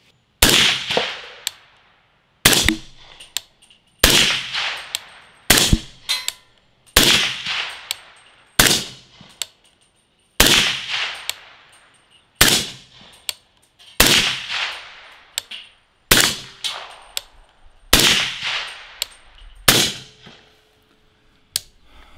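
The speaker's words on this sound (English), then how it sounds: "I'm going to shoot all of these off the steel just so you can get a true sound of the difference in volume between supersonic and subsonic" Suppressed .300 Blackout rifle fired at steel targets, roughly sixteen sharp shots spaced a second or two apart, each a crisp crack followed by a ringing metallic ping from the steel plate, loud and close with no talking.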